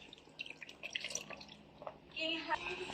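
Water splashes into a cooking pot holding cassava wrapped under banana leaves on a low fire, a few drips at first, then a fuller pouring rush near the end, with a person talking over it.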